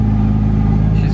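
The stock 469-horsepower RB25 engine in a Nissan 180SX idles steadily just after its first start in a couple of weeks, a loud, close, even low rumble with a pulsing beat and no talk over it.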